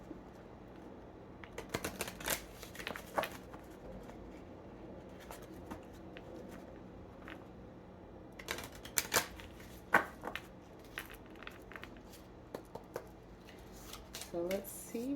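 Oracle cards being shuffled and pulled from a deck, giving soft irregular riffles and flicks with a few sharper card snaps, close and fairly quiet, while a person talks intermittently.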